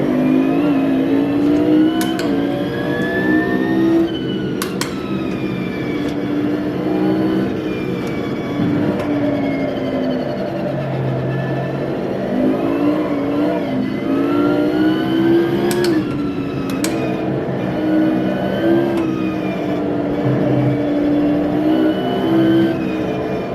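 A sim racing game plays through a GT Omega Prime Lite chassis rig, its car engine revving and shifting continuously with rising and falling tones and occasional sharp clicks, loud and steady throughout.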